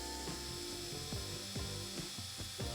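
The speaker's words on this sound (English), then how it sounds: "The bench chisel played its part again" A bench chisel cuts into wood in a series of about six close, rhythmic scraping strokes, each a short rasping push through the grain.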